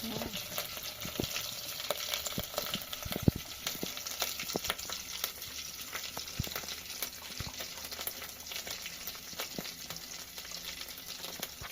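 Kadhi goli mixture stirred in a pot at home, giving a steady scraping, bubbling texture with scattered clinks and knocks from the utensil throughout, close and fairly quiet with no talk.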